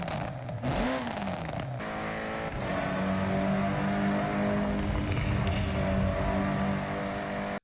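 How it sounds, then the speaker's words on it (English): Engines from Forza Horizon 6 rev and accelerate continuously, a loud, rising and falling roar with gear changes and no talk over it. "they have upgraded the car sounds as well"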